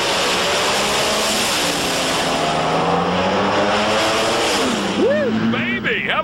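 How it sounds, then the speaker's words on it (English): Two drag race cars launch side by side at the 2005 March Meet, a loud sustained engine roar with a voice over it, then rising and falling pitch sweeps near the end as they pass. "How about a nice drag race right there, man?"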